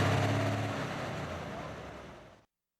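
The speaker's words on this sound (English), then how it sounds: "you can hear the motors pull down on these big post stops" A heavy pulling-tractor engine roars loudly at a tractor pull, then strains and fades as it bogs down, a steady low rumble that drops off to silence.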